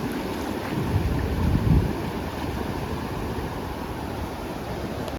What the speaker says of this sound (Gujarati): કેટલા મોજા થઈ ગયેલા છે